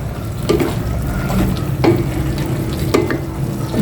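Okra and eggplant frying in a pan, a steady sizzle with soft scraping stirs at a slow, irregular pace, heard close and without talk.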